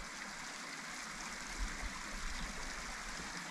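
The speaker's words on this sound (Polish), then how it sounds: "Jest urwisko i tam u góry wodospady." Falling water rushes in a steady, broad hiss from waterfalls at the top of a cliff, heard at some distance, continuous and unbroken with no voices.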